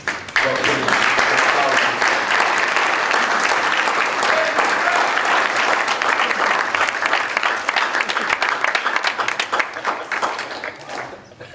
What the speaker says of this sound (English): please stand and accept our applause.